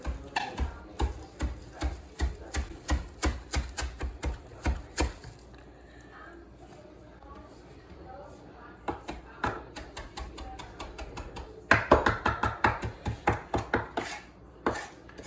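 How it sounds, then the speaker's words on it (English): A knife chops Italian parsley on a cutting board in quick, rhythmic taps, with a pause midway before a brisk final burst of chopping close up. "I'm going to chop up just a little bit of Italian parsley here."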